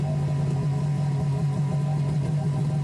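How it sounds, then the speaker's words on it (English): A 2003 Yamaha GP1300R jet ski fitted with a Riva free flow exhaust runs on a water hose, giving a steady, loud mid-pitched engine drone with a rough, clattery edge and no voices. "a quick clip showing the ski running on the water hose so you can hear how the free flow exhaust sounds installed on the ski"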